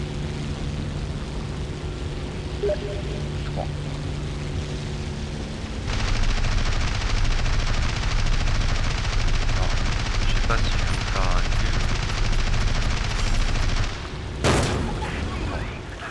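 War Thunder aircraft combat: engine drone gives way to sustained rapid machine-gun fire from about six seconds, loud and dense, with a sharp burst near the end and someone talking over it.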